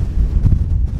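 Strong wind buffets the microphone at Foster Point, a mountain viewpoint along the Pacific Crest Trail, a steady low roaring rumble with gusty surges throughout the short stretch, no talk.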